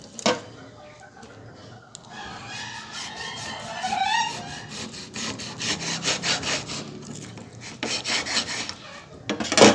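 Beef ribs being cut by hand, a repeated sawing, scraping stroke of blade through meat and bone, close and moderately loud, building in intensity toward the end with some clattering and faint background voices.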